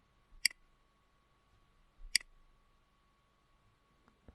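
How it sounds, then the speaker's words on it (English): Two sharp key clicks from pressing the delete key on a computer keyboard, well spaced and close, over near silence with a faint steady tone. "press delete key on your keyboard"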